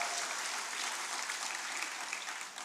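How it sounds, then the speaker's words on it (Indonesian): A church congregation at a Christmas morning service claps together in a dense, sustained wash of applause that holds steady throughout, with no voices above it. "Yang sepakat beri tepuk tangan sekali lagi yang meriah buat Tuhan kita"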